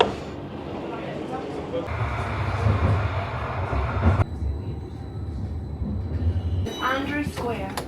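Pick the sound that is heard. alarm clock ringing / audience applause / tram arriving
tram arriving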